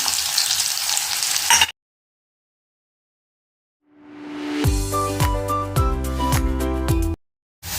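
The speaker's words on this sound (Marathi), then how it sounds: "टाकते आहे अर्धा चमचा जिरे आणि लगेच त्यावर टाकते आहे कढीपत्ता त्यानंतर टाकते आहे हा चिरलेला कांदा" Cumin seeds, curry leaves and chopped onion hitting hot oil for a ridge gourd stir-fry give a loud, bright hiss for under two seconds before cutting off; music with a steady beat fills the later part.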